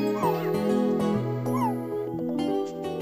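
A virtual puppy in Nintendogs + Cats on the 3DS yips and whimpers in a quick series of short, high barks over a bright, tuneful game melody.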